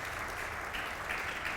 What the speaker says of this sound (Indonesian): Berikan tepuk tangan untuk kemuliaan nama Tuhan.